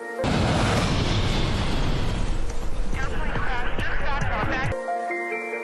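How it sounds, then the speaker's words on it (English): A huge explosion follows the 1986 mid-air collision over a Los Angeles neighborhood, a loud, sustained roaring blast with rumbling and crackling debris that cuts off abruptly into quieter tonal sound. "A calm holiday weekend is shattered by a devastating explosion."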